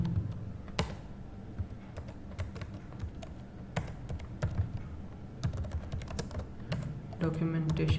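Irregular keystrokes on a computer keyboard tap out in quick bursts with short pauses, fairly close, over a low room hum during work on Amazon seller account documentation.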